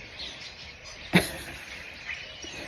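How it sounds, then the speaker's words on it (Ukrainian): Starlings near a cherry tree give one sharp, loud call in the middle, followed by a fainter chirp against a quiet outdoor background. "Оце шпаки кричать."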